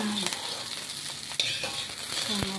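Food sautés in a pan while being stirred, giving a soft, steady sizzle with scattered clinks and scrapes of a utensil and a sharper knock midway.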